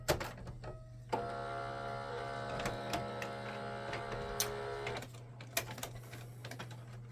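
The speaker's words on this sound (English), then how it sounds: "So that moves back and forth with the printhead installed in there" The printhead carriage of a Canon Pixma MG5220 printer shuttles back and forth under a steady low motor hum, with whirring runs broken by sharp clicks and clunks at the stops.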